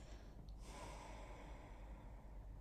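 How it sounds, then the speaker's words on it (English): Slow, audible breathing during a mindfulness practice, with a sharp nasal inhale near the start followed by a long, steady, close exhale through a noisy room tone. "just breathing, just like this"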